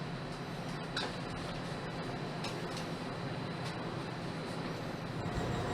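A train rides along the rails, heard from inside as a steady, moderately quiet rumble with faint clicks and rattles and no talking.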